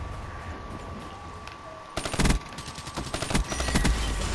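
Gunfire in Black Ops 3 multiplayer: after a quiet stretch, rapid automatic bursts crack out near and loud, with a second burst following soon after.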